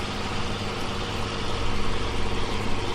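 A big tractor engine in Farming Simulator 17 drones loudly and continuously, a steady low rumble with a slight swell partway through, no voices over it.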